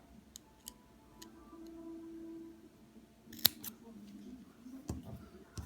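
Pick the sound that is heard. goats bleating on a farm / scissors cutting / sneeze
scissors cutting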